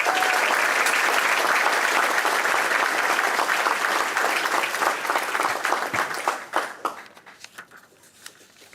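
A crowd at a fire academy graduation gives a round of applause, steady and full at first, then thinning into scattered individual claps as it fades out over the final seconds.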